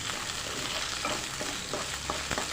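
Coriander, chilli, urad dal, fenugreek and shallots fry in coconut oil for a Kerala prawn and ash gourd curry, a steady close sizzle with soft stirring scrapes and small pops running throughout.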